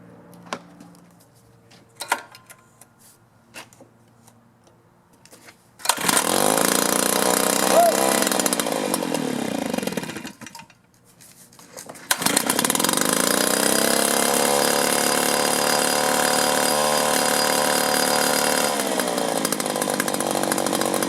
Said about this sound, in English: We'll let it warm up a minute, and then we'll throttle up and see how it does.